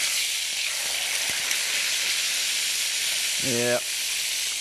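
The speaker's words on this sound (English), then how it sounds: "we're gonna put a good gob of butter in there" A good gob of butter sizzles in a hot pan with veal, a steady loud hiss running throughout, briefly joined near the end by a short spoken word.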